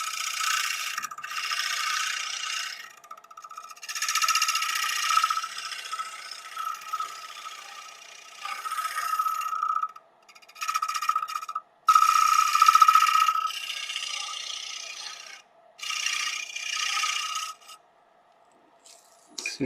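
A steep scraper cuts the edge of a cherry wood bowl spinning on a lathe, making bursts of loud raspy, hissing scraping separated by brief pauses, with a steady motor hum underneath and no talk.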